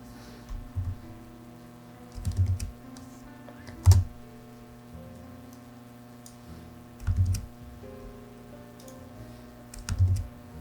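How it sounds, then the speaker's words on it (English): Typing on a computer keyboard, with short clusters of soft key clicks arriving in bursts every few seconds over a steady electrical hum, close and fairly quiet. "I can actually just start typing"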